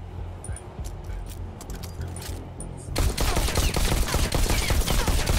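Rapid gunfire from shooting targets in the Bullet Train video game: scattered shots at first, then a dense, loud burst of continuous firing takes over for the second half.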